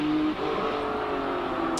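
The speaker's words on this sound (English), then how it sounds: "it is pushing that Lotus up the hill very quickly" A Lotus Exige race car accelerating hard up the hill at the Simola Hillclimb, its engine a steady, loud droning roar with a slight dip in pitch partway through.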